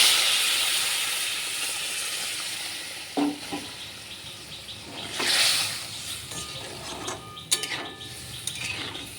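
A curry of coconut milk and potatoes bubbles in a pot with a soft, continuous hiss, broken by a few louder bursts of bubbling and light clinks of a utensil.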